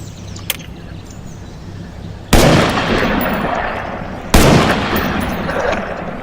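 Two loud, sharp gunshots from ArcCW carbine guns in Garry's Mod, spaced about two seconds apart, each with a long echoing tail, preceded by a faint click.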